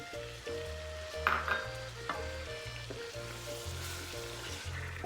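Chicken karahi sizzling and frying in a pan as yogurt, crushed coconut and spices are stirred in, a steady close crackle with scraping stir strokes throughout, no talking.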